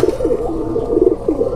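Cooing from an old Kuwaiti teddy pigeon, a steady run of low, throaty rolling coos repeating close by with no talk over it.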